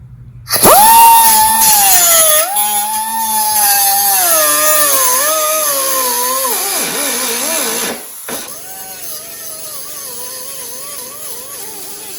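A power tool cutting into metal on a truck during a torsion bar key modification, a loud sustained high whine that wavers in pitch for several seconds, then drops away and continues more quietly.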